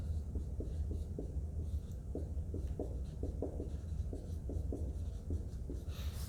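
Chemical names are written by hand with a pen or pencil on paper, giving a series of close, soft scratching strokes and taps in irregular bursts over a low background hum.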